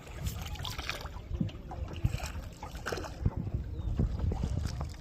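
A wooden boat rowed on a river, with soft irregular knocks and splashes of the oars over wind and flowing water, close by and fairly quiet.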